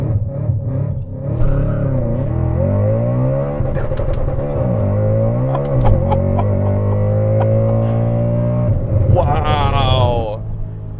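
A supercharged Audi RS5 V8 launches hard from a standstill, its loud engine note climbing in pitch through several gear changes, heard from inside the car.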